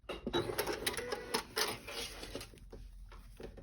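A sewing machine bastes a zipper onto a triangle zipper pouch, giving a steady, close mechanical whir with a rapid stitching chatter that runs for the whole stretch, with no talk.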